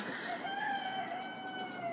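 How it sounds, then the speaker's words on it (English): A neighbor's rooster crows one long, drawn-out call at moderate distance in an autumn garden, steady and clear over soft outdoor background noise. "My neighbor's rooster crowing away"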